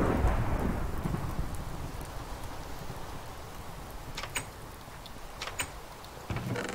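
Rain falling in the video game TFC, a steady hiss of downpour with a low rumble early on, then scattered sharp drip and tick sounds toward the end, moderately quiet throughout.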